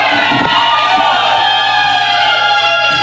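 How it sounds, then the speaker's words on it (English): Wrestling crowd at an ACE Mercury Rising event cheering loudly and continuously, a dense wall of shouts and whoops with a sustained tone underneath. "This crowd showing their appreciation to the athleticism."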